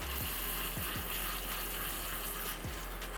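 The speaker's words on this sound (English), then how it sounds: "So I'm just gonna give it some extra water." Water pours steadily into a plant container, a quiet continuous splashing gush with a few soft plops.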